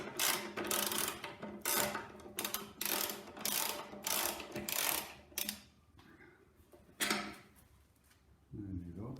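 Wrench work tightening a bolt during the restoration of an MF 135 8-speed tractor, a loud run of rapid ratcheting clicks in repeated bursts, then a pause and a few scattered clanks, with a brief voice near the end.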